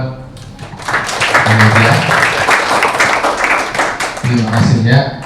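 A classroom of students claps in a lively burst of applause while a teacher's voice speaks over and after it.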